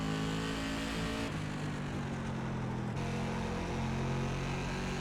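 An SK Modified race car engine roars loud and close in iRacing, holding a high whine, then shifting pitch as it lifts and reaccelerates.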